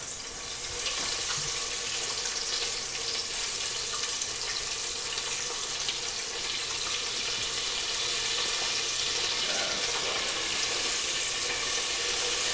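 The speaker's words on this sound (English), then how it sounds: "Deep frying things is fun." Chicken nuggets deep fry in hot oil, a loud, continuous hissing sizzle that holds steady and close throughout with no voices.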